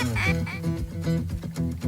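A few nasal, raspy duck quacks in quick succession, fairly close and loud, with no talking, during a duck hunt in farm fields in Québec.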